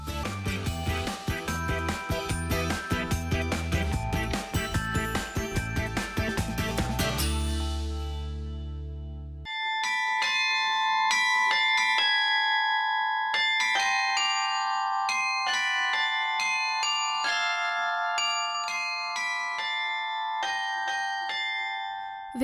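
The town hall carillon in Fürth plays a tune, bright bell tones ringing out in a melodic line with long sustained decays; a louder, denser passage breaks off abruptly and the tune resumes cleaner and more spacious.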